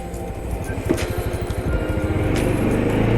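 A Mahindra Mojo motorcycle engine thrums close by while riding, its pulsing low rumble climbing steadily as the bike accelerates, with wind noise over the top.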